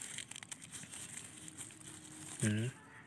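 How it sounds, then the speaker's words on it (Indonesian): Fresh johar leaves crushed and squeezed by hand, a close crinkling and rustling that runs throughout, with a brief tone sounding near the end. "Kita remas seperti ini."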